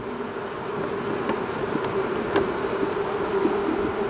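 A dense, steady buzzing of many honey bees in a hive, a close continuous drone with a few brief individual wingbeat whines rising above it.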